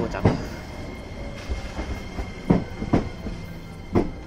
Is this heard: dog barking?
no